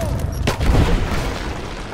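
Gunfire in a Rise of the Tomb Raider firefight, a single heavy boom-like shot followed by a rumbling tail over a noisy combat background.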